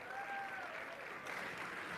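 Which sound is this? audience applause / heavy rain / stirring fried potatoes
audience applause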